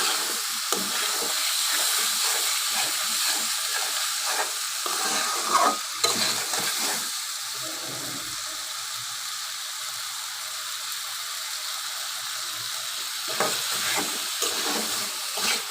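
Potatoes and dried gagla fish sizzle steadily in a pan while being stirred, a dense continuous frying hiss with scraping stir strokes throughout, close and fairly loud, no talking.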